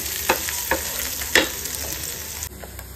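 Onions sauté in a pan with a soft continuous sizzle, punctuated by a few sharp scraping clicks as a spatula stirs them, fairly close and quiet, with no talking.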